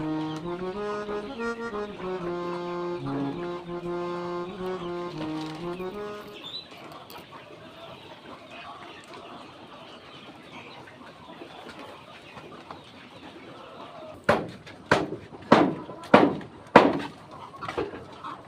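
On a chicken farm, a tonal, wavering call fades into quiet farmyard ambience, then a series of five or six sharp clucking bursts rise near the end.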